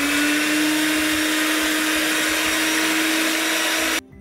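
An electric mixer whips very cold cream in a bowl with a loud, steady motor whine that holds its pitch. It runs for about four seconds, then cuts off abruptly, and no one speaks.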